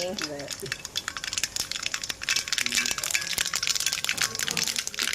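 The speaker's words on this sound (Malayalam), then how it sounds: "എണ്ണ ചൂടായി നമുക്ക് കടുക് ഇടാവേ. കടുക് എവിടെ കിടന്ന് പൊട്ടട്ടെ." Mustard seeds spluttering in hot oil in a kitchen pan, a dense run of sharp crackles and pops close by, with a brief voice at the start.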